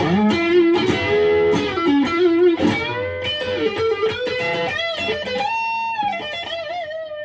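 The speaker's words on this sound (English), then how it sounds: "That's kind of a Fender tone with a little bit of distortion up front." An electric guitar with a clean, bright single-coil tone and slight overdrive plays a melodic phrase of sustained notes and bends, loud and close.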